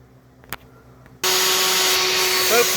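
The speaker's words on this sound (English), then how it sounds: "our friend here is this little vacuum. It's super powerful, but it's small" A small, powerful vacuum cleaner switches on over a model railroad layout, a few quiet clicks and taps first, then a loud sustained whine and rushing airflow that holds steady to the end.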